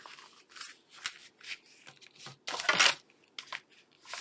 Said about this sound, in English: This needs to be torn down because it's too